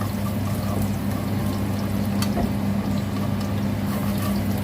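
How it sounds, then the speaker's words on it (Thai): Wide rice noodles blanch in a pot of hot water in a home kitchen while a rat na topping dish is prepared. A steady, close watery rush and bubbling runs without a break under a low hum. "เส้นใหญ่กำลังลวก ลวกเส้นแล้วนะคะ"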